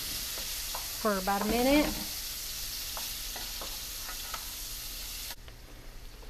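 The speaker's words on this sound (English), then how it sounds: "to this pan we've got the butter melting. I'm just going to cook the onions and the garlic" Onions and garlic fry in melted butter in a pan, a steady close hiss of sizzling with occasional stirring taps, while a voice speaks briefly over it.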